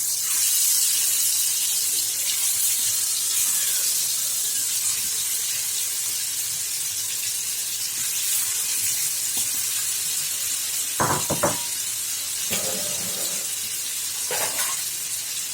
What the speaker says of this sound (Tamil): இப்போ வந்து ஒரு தோசை கல் போட்டுருக்கேன் நம்ம இந்த மீனெல்லாம் அதில் போட்டு விட்டுடலாம்